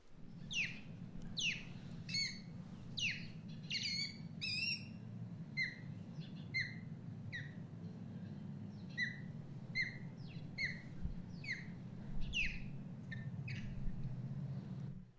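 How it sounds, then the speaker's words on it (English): Osprey alarm calls ring out in a long series of sharp whistles and chirps, repeated in quick clusters over a low background rumble. "So you can kind of hear it's a combination of whistles and chirps. This is the alarm call."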